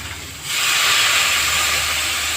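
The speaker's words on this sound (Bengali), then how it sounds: "এবার জল দিয়ে দেবো।" Water poured into a hot pan of fried pumpkin and egg sets off a sudden loud, sustained steam hiss that stays strong and even after a brief quiet start.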